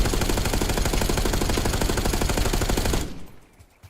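Rapid automatic gunfire from Call of Duty Black Ops 6, a dense, loud burst of evenly spaced shots lasting about three seconds before cutting off abruptly.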